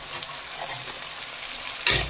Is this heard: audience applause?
no